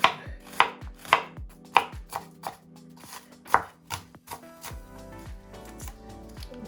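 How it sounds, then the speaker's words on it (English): An onion being chopped with a knife for Jamaican turn cornmeal: a dozen or so sharp, uneven knife strikes on a board, close and fairly loud. Sparse thuds continue toward the end, with no talking. "cut my onion."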